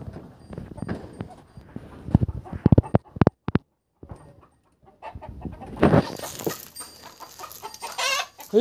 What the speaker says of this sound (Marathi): हे काळा कोंबडा कुठला आहे?